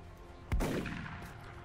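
A single loud gunshot from the XCOM Long War video game cracks once and then rings out into a short decaying tail, with no talk.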